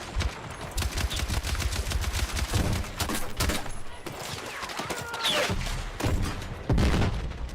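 Gunfire in Battlefield 6, including sniper shots, with loud, sharp reports and booms coming in irregular bursts within a chaotic firefight, close and punchy throughout.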